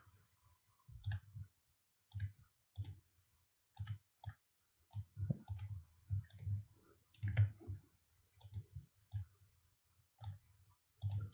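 Computer mouse clicks in editing software, a long run of sharp, close, quiet clicks spaced irregularly against near silence.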